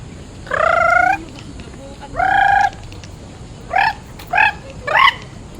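Chickens calling outdoors on a morning walk: two longer drawn-out cries followed by three short clipped calls, fairly close and clear over a steady background hiss.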